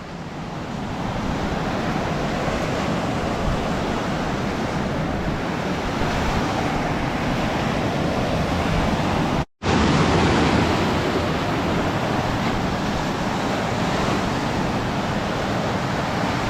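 Ocean waves break on the shore at Panjim, Goa, a loud, continuous roar of surf close by with no talking, interrupted only by a momentary dropout partway through before the crashing wash resumes.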